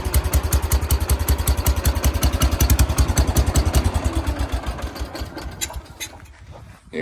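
A 1969 John Deere 140 garden tractor engine runs rich with the choke stuck partly on, thumping in a steady, slightly loping rhythm up close before easing down toward the end.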